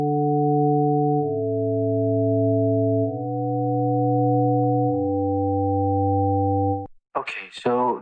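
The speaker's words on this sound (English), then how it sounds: "this is starting to sound something like a rising patch" A synth patch on the Aparillo synthesizer holds smooth, pure sustained tones that shift step by step through several pitches for about seven seconds, loud and clean, followed by a brief burst of speech.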